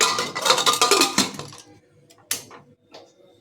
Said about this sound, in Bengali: এবার প্রেসার কুকারের ঢাকনাটা বন্ধ